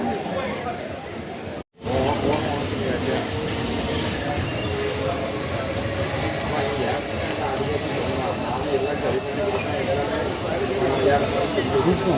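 Madurai–Guruvayur Express passenger train hauled by an electric locomotive, wheels squealing and carriages rumbling loudly and steadily after a brief dropout, with faint chatter in the background.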